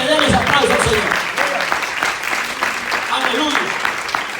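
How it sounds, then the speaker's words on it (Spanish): Church congregation at a Spanish-language service in Kilgore, Texas, clapping in praise; close, lively applause with uneven bursts, mixed with raised voices throughout. "Así que denle ese aplauso al Señor."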